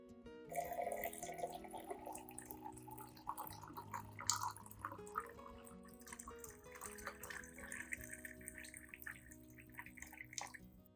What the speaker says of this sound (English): Then, add 500 milliliters of warm water.